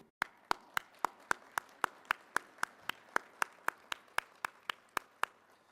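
Meeting audience at an AQHA membership gathering clapping in a slow, even unison rhythm, about twenty sharp claps spaced evenly, crisp and moderately quiet with no voices over them.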